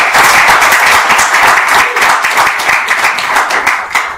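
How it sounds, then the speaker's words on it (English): A dense, loud round of applause from an audience honouring the Rebbes, continuous clapping from start to finish with no talk over it. "if we give them a round of applause"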